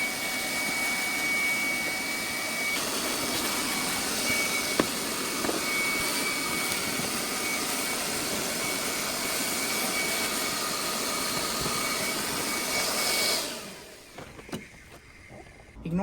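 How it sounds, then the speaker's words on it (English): A vacuum cleaner works over the bare floor pan of an E30 car, a steady loud roaring whine that runs for most of the stretch and then cuts off near the end, leaving faint handling sounds. "gonna vacuum, wipe it down, and then lay some epoxy"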